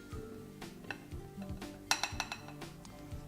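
Flour, butter and eggs going into a stand mixer bowl for an apple tart dough, with light clinks and taps of utensils and containers against the bowl, soft and close, with no voices.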